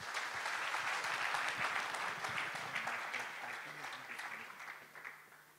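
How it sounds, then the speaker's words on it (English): An audience at an engineering conference applauds as an aluminum industry executive is introduced. The clapping is dense and sustained from the start, then gradually thins and fades toward the end. "Let's have a round of applause."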